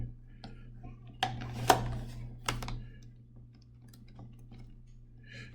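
Numbers keyed in one after another during a Taylor's theorem math lesson: a few sparse, faint clicks over a steady low hum, with long quiet gaps between presses.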